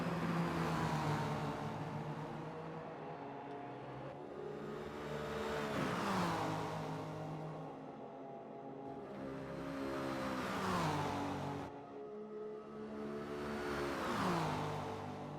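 Race car engines in a racing video game at Watkins Glen, the BMW among them, revving high and shifting down in repeated cycles, rising and falling pitch as cars pass along the straightaway, fairly faint and without talk.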